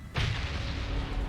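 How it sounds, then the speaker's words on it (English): Missiles and nukes fire in a space video game: a sudden booming launch that swells into a sustained roaring rumble, filling the short moment close and loud. "we gotta watch out for this cheeky little nerd over here popping some missiles off"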